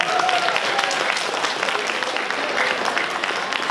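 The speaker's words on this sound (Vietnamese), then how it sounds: "Mời xin quý vị cho các em một tràng pháo tay" Audience applause at a skit performance, a lively, close, continuous burst of clapping from many hands without any talking over it.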